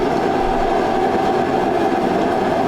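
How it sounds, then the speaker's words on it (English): A propane heater running inside a barn gives off a constant, loud broadband roar with a low rumbling undertone, steady and unbroken for the whole stretch, with no voices over it. "We have the propane heater going."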